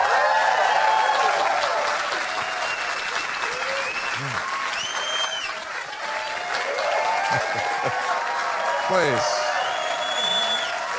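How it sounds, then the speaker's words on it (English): Sustained audience applause fills a comedy show hall for about eleven seconds, dense and steady with scattered whoops, while a voice speaks over it near the end. "That was a great applause."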